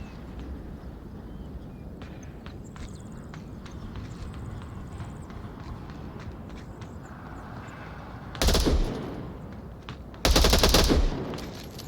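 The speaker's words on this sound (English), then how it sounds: "Shots coming out from Craft, not hitting Marksman." Gunfire in a first-person shooter video game, with two loud bursts of shots near the end over a steady background of game ambience and faint footstep-like ticks.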